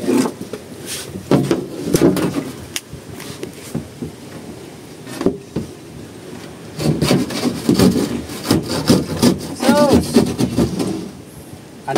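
A hand saw cuts wood in bursts of rough rasping strokes, pausing between passes, with people talking in a Filipino language around the work on a boat cabin floor.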